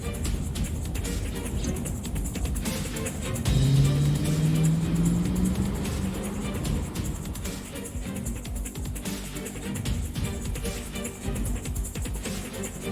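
A car engine revs to a rising, high-pitched scream in the video game AI: The Somnium Files, climbing in pitch over a few seconds and then holding under steady game background sound.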